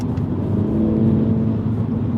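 A 2020 MINI John Cooper Works with the Sport automatic, in Sport mode, accelerates hard, its engine a loud, close, steady drone heard from inside the car with no talking.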